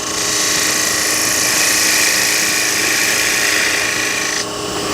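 A wood lathe tool cuts into a spinning box blank to recess its inside, giving a loud, steady, rasping scrape that fills the whole stretch and eases off slightly near the end, with no voices.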